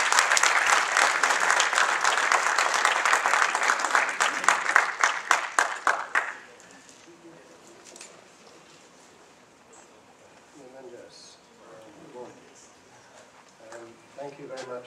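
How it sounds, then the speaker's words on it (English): A conference audience at a Kean University event claps for about six seconds to welcome a visiting professor, an expert on the Chameria issue, before the applause stops abruptly and quiet talk continues. "Please welcome him with an applause."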